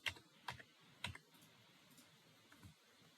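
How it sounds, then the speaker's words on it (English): Fingers typing on a computer keyboard, a few crisp key clicks at irregular intervals over faint background hiss, quiet and close, no talk. "So we can go ahead and type in here."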